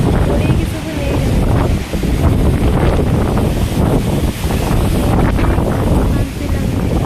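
Strong wind roars steadily into an outdoor microphone, heavy low rumbling gusts with buffeting, continuous throughout with brief dips, loud and close.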